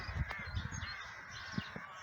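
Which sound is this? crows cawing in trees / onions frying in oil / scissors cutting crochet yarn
crows cawing in trees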